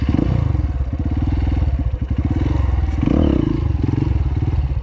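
Motorcycle engine idling and pulling at low RPM, a close, loud steady thumping putter with a slight rise in the middle.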